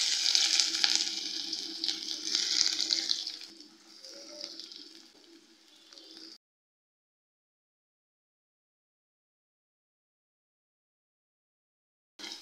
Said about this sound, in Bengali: এবার আমি এই তেলের মধ্যে পেঁয়াজ কুচি দিয়ে দিচ্ছি।